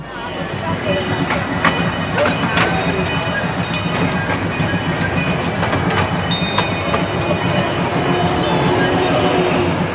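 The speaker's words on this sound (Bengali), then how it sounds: "এটা স্টিম ইঞ্জিনে চলে এই টয় ট্রেনটা" Rolling rumble of a steam-powered toy train with repeated sharp clicks and clanks from the rails, steady and fairly close, with some talking mixed underneath.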